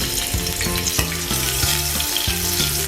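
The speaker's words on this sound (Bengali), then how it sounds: "তেল গরম হয়ে গেছে এখন আমি পেঁয়াজটা দিচ্ছি" Onion hitting hot oil in a wok makes a loud, steady sizzle that holds for the whole stretch, with a rhythmic musical backing running beneath it.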